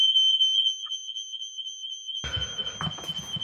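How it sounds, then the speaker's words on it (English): A home fire alarm beeps loudly with a steady high-pitched shrill tone that continues throughout, with rustling and handling noise in the second half. "It's my fire alarm."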